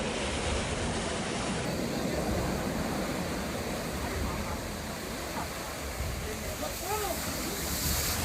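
Massive ocean waves slamming against cliffs, a continuous heavy roar of surf mixed with wind buffeting the microphone, loud and unbroken throughout.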